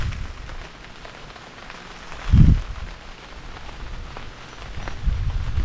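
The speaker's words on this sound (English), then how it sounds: "the corn rejoices in the falling rain" Steady rain falls over a cornfield, a soft continuous hiss with a brief low rumble near the middle and a swell at the end, with no voices.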